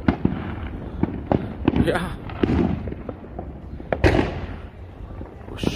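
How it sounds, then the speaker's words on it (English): Fourth of July fireworks on the east side of Las Vegas, heard from a car: a string of sharp, distant pops and bangs at irregular intervals under casual talk. "Look at all those fireworks over there in the background."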